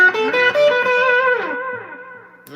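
An electric guitar played through stacked reverb and analog delay rings out in sustained, wavering notes. Trails fade over a couple of seconds, close and fairly loud, with no voices.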